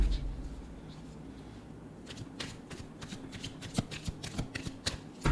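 Tarot cards are shuffled by hand, giving soft riffling and a rapid run of crisp, close slaps and flutters that build toward the end. No speech is heard.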